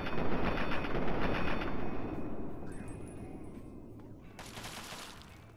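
Sustained automatic gunfire from Fallout 3 combat, dense rattling bursts strongest at first and thinning out over several seconds, with a faint voice in the mix.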